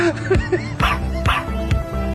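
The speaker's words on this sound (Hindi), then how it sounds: "अरे कौन भौंक रहा है बदतमीज?" A dog barks and yips several times in quick succession, fairly close, with a few short sharp yelps between the louder barks.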